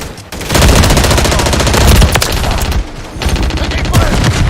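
Dense automatic gunfire in a shooter video game, with rapid rattling bursts firing almost nonstop. The shots are loud and close, broken by a few short pauses, and a brief voice is heard in the mix.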